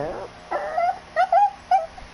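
An upset dog whimpers in short, high, wavering whines, three or four close bursts separated by brief pauses, loud and near, in a warm room with open windows.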